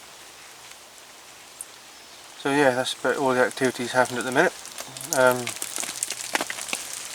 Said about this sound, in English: This rain is supposed to ease off